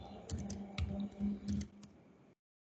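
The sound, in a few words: typing TypeScript code on a computer keyboard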